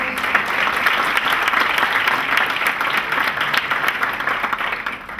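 Dense, lively applause fills a lecture hall as an audience claps for a named architect on a sustainable-building panel in Mexico, many hands beating steadily and close before easing slightly at the end.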